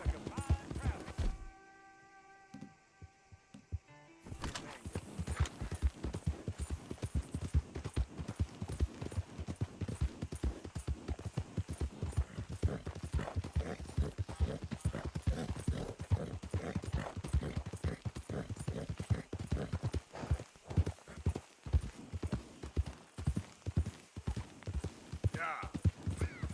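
Steady clip-clopping horse hooves trot on for a long stretch in Red Dead Redemption 2, close and rhythmic, after a brief electronic tone near the start.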